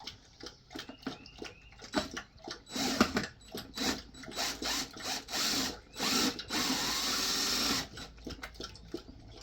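Power screwdriver driving screws into a Bee Castle observation hive during assembly, a close whirring motor in short uneven bursts with a longer sustained run near the end.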